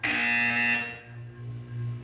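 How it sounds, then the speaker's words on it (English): Buzzer in the Portal 2 video game, a harsh, loud electronic tone held for about a second that then fades into a lower lingering drone. "When you hear the buzzer, look down at the floor."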